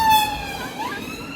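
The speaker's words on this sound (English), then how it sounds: "you don't go 2 days without hearing one of those sirens" An emergency vehicle siren wails on a street in Edmonton Green, London, a brief, fairly loud tonal sweep with no talking over it.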